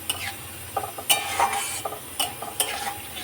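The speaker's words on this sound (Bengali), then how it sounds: "এবার ভালো করে এটাকে" Chicken curry fries in a pan with a little added water, giving a soft sizzle beneath several quick, close spoon scrapes in an uneven rhythm.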